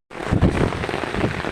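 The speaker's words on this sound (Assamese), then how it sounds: "খতৰনাক বৰষুণ দিছে বতাহ মাৰি আছে" Heavy rain driven by wind, a dense, steady roar of downpour that starts abruptly and holds loud and close throughout with gusty swells, no voices.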